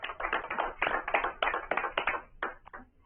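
Applause for a speaker at a school district parent series session on mental health: a short burst of dense clapping from a modest audience, steady for a few seconds and tapering off, no talking over it.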